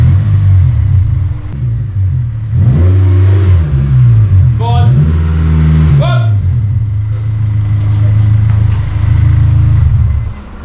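Wide-arch Honda S2000 driving close by, its engine rumbling steadily with several quick revs and gear changes rising and falling in pitch, loud and continuous.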